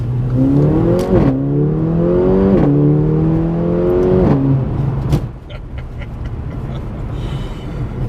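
A Mercedes A45 AMG launches hard, its engine revving in rising sweeps broken by quick gear changes, then settling into a steadier, quieter drone with faint clicks near the end.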